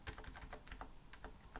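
Keys clatter on a Microsoft Sidewinder X4 gaming keyboard with non-mechanical switches, about ten quick taps in an uneven rhythm, close and fairly quiet with no talking.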